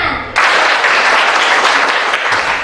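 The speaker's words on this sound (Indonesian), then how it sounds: "Tepuk tangan." A classroom of students breaks into applause on cue, a dense, steady burst of clapping that starts abruptly and carries loudly through to the end.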